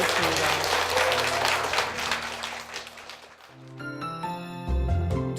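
Congregation at a church service claps loudly in a dense burst of applause for a few seconds, then fades as sustained organ or keyboard chords and bell-like tones take over.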